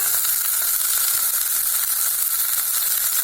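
Onion and green chillies sizzle steadily in hot oil for a Thanjavur-style sambar, a dense, even hiss that holds at a constant level for the whole stretch without any talk.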